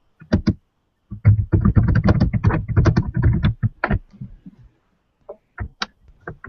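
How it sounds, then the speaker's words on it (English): Keys clatter on a computer keyboard in quick, close bursts of clicks, a busy run of typing followed by a pause and a few scattered taps. "I can at least hear you typing"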